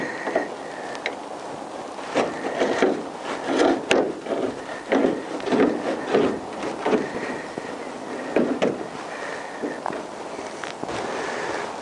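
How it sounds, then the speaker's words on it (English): Pliers work a headlight fastener loose on a Honda CBR1000F motorcycle, making irregular close scraping, rubbing and small ticking sounds that come in uneven bursts for several seconds. "See if we can do this one with a pair of pliers."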